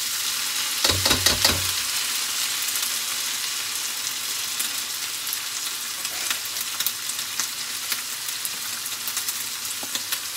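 Cooked rice hits hot oil in a wok with a loud burst of sizzling and a few clattering stirs, then settles into a steady, close crackling fry that carries on alone to the end.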